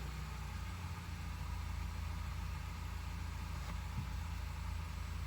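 A 2023 Mazda 3 sedan with a 2.5L non-turbo engine idles after startup, a steady low hum with faint mechanical texture, quiet and unbroken, no voices.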